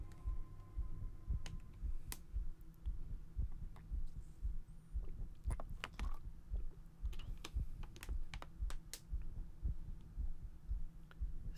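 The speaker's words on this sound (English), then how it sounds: "It's got so much heartbeat motif going on here." A heartbeat motif in the music of the video game Myst III: Exile thumps as low, steady, evenly spaced double beats under a faint hum, quiet and unbroken with no talking.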